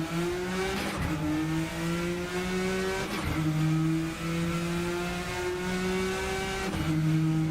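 Racing car engine in a sim racing game such as Project Motor Racing or Rennsport, a loud sustained high-revving drone that climbs through the gears with brief dips at each of several shifts.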